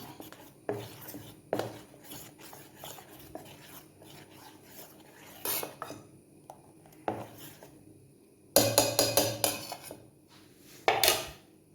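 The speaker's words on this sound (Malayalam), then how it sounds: "നമ്മുടെ അപ്പത്തിൻ്റെ മാവിലേക്ക് അല്പം ഉപ്പും ഒരൽപ്പം പഞ്ചസാരയും കൂടെ ചേർത്ത് നമുക്ക് ഇളക്കി വെക്കാം" Appam batter being stirred in a bowl after salt and sugar are added, heard as intermittent clinks and scrapes of a spoon against the vessel, with a louder run of rapid clattering strokes near the end, close by and without talk.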